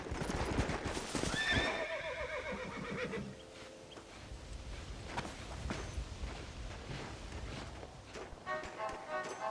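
Horses in the video game Red Dead Redemption: one whinnies loudly up close, then hooves clip-clop in a steady walking rhythm, with another short neigh near the end.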